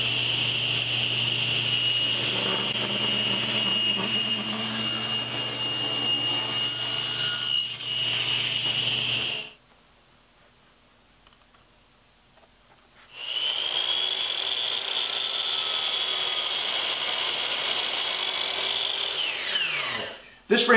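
A power saw cuts through a wooden frame held in a spline jig: two sustained, loud whining cuts separated by a few seconds of quiet, with the blade spinning down at the end.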